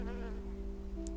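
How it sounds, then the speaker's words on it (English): Bumblebees buzzing among flowers in the English countryside near apple orchards, a steady low drone that holds throughout, close and fairly faint against quiet background hum. "Bumblebees buzz amongst the flowers alongside striking red admiral butterflies"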